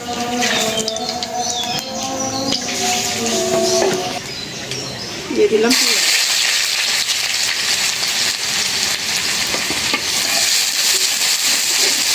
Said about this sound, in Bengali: কড়াইটা গরম হয়ে গেছে তেল দিয়ে দিই